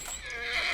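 A horse whinnies while being ridden in The Last of Us, a short rising and wavering neigh heard close and clear.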